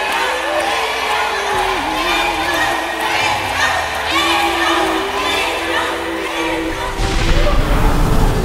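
A large concert audience of thousands cheers and shouts loudly and continuously, with a broad roar of voices swelling even louder near the end.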